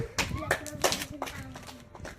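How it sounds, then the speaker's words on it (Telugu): A few people clap their hands in scattered, uneven bursts during a children's alphabet guessing game at home, close by, with voices and light footsteps mixed in. "క్లాప్స్ కొట్టండి."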